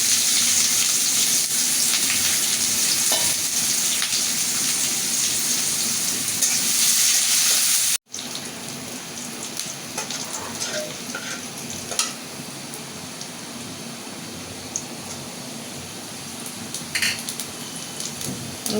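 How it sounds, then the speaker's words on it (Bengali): Bay leaf and onion frying in hot oil for a gourd-shrimp curry, a steady dense sizzle close by, briefly cut off and then continuing softer with occasional stirring scrapes. "আমার তেল গরম হয়ে গেছে আমি তেজপাতা দিয়ে পেঁয়াজ দিয়ে দিলাম"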